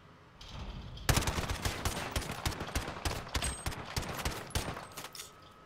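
Rapid automatic gunfire from an MP5 or MP7 submachine gun in Call of Duty: Modern Warfare, a dense burst of loud, closely spaced shots starting abruptly and running for several seconds with no talk.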